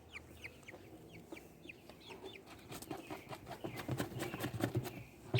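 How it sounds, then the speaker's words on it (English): A young hen clucks while being handled, with several short, close clucks and squawks over soft rustling and handling noise that builds toward the end. "I'm going to say it's a hen."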